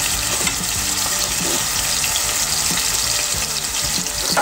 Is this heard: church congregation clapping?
no